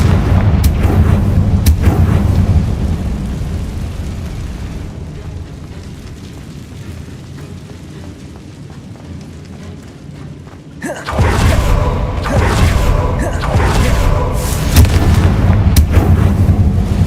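Loud, booming blasts from the Confringo fire spell in the Hogwarts Legacy video game, with heavy rumbling explosions at the start, a quieter stretch, then a fresh burst of repeated blasts near the end.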